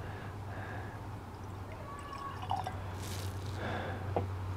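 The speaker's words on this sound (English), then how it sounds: "I'll do a quick pour" Maker's Mark bourbon, a 45% ABV whiskey, poured into a glass outdoors in a front yard, giving a few faint liquid trickles and drips over a steady low hum of background noise.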